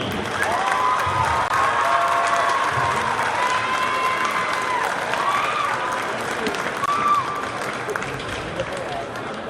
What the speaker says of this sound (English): Please give a round of applause for your all-conference team.